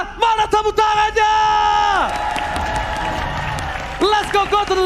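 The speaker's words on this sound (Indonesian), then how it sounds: "IPL Arena, mana tepuk tangannya?" A large esports arena crowd at an MPL ID Season 11 match between Rebellion Zion and RRQ cheers and claps loudly, with whoops rising and falling under an excited caster's voice.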